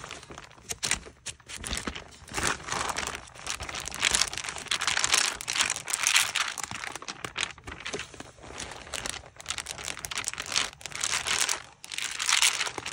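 Composition book paper stiffened with paint and water crinkles and crackles as it is handled, a dense crispy rustling that keeps going in loud close bursts with short pauses.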